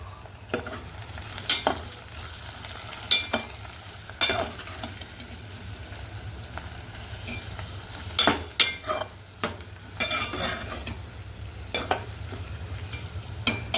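Chopped onions sauté in a pan for a tamarind-leaf curry, giving a steady sizzle broken by irregular scraping stirs, close and moderately loud, with no voices.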